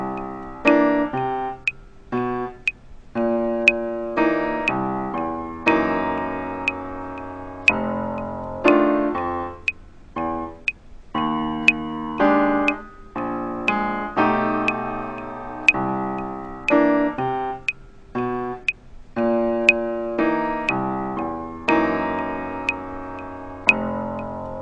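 Funk piano riff variation played slowly and steadily, short chordal stabs and bass notes repeating in a groove against ticking metronome clicks, clear and close with no voices.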